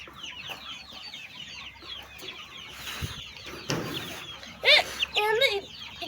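A small chick clucks and peeps softly close by amid quiet rustling, with a few louder chirps near the end and a person speaking gently to it.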